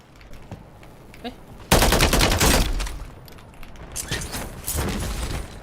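Gunfire in Call of Duty Warzone: a few faint distant shots, then a loud sustained automatic burst, followed by further rapid bursts fading in and out.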